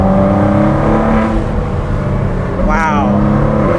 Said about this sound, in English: I'm literally just tapping the throttle here